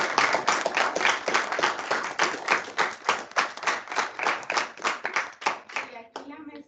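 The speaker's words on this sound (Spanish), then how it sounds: "un caluroso aplauso para..." A small audience gives warm applause: crisp, close handclaps in a loose but steady rhythm, running several seconds before fading out as a voice begins at the very end.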